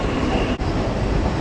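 A local train rolls into Madhyamgram station at night, a loud continuous rumble of wheels and carriages close by, with a brief dip in the noise midway.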